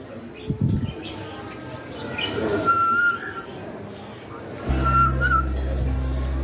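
Pet cockatiels and other caged birds on a rooftop let out a few short, clear whistled chirps at moderate distance over a steady low background hum.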